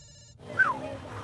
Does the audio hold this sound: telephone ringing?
yes